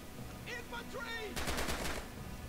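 Burst of rapid gunfire in the World War II shooter game Red Orchestra 2, a quick string of loud, close shots lasting about half a second after some faint whistling game sounds.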